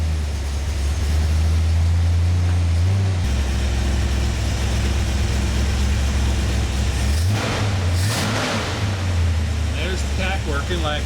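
A 1966 Ford Mustang engine with the choke pulled catches and settles into a steady, loud, close idle, with a low rumble running throughout.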